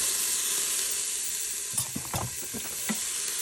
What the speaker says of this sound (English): So having cut my onions, I'm going to come over to my warm oil, and I'm just going to put it right in the pot.